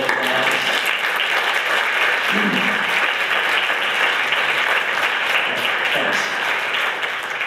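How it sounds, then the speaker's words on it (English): Applause from an audience at a university staff gathering, honoring Office of the Registrar employees as they stand; a steady, dense clapping that fills the room at even volume for several seconds, with no talk over it. "Just a quick round of applause."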